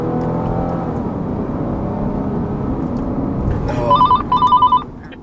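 A car accelerates hard on a Georgia road while chasing a fast train, its engine droning steadily and loud throughout, with a series of electronic beeping tones near the end.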